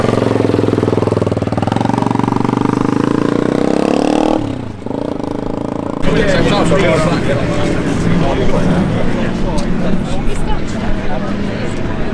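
Enduro motorcycle engine starts and runs, a loud steady drone that cuts out briefly before firing back up rougher and busier, with people talking over it.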